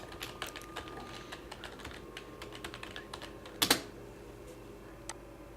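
Scattered taps on a computer keyboard while a CV is being written, with irregular keystrokes, a louder double click near the end and a final tap, heard close over a low background hum.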